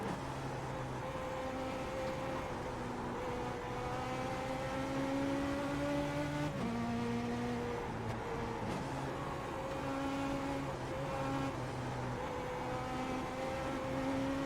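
Stock race cars on a short track drone steadily with layered engine tones rising and falling as they circle in traffic, a continuous moderately distant roar with no talking.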